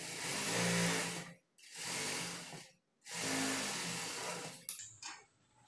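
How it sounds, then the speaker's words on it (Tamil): A sewing machine stitches folded cloth for a semi-patiala pant, running in three steady bursts separated by brief pauses, then a few soft clicks of handling at the end. "நான் வந்து இந்த கிளாத்த மடிச்சு அப்படியே தையல் போட்டுக்கிறேன்"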